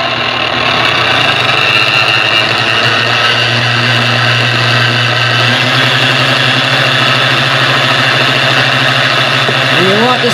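Old electric kitchen mixer running loudly in a bowl, a constant droning motor hum with rattling vibration that holds steady throughout, close and dominant.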